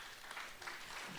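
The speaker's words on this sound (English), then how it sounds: "please stand and give an applaud to our working committee" A conference audience applauds the working committee, a steady, dense wash of clapping that fills the short moment without a break.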